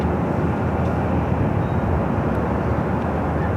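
Boeing 737-800 jet bound for Denver at LAX airport, a steady broadband engine roar that stays loud and constant throughout with no pauses.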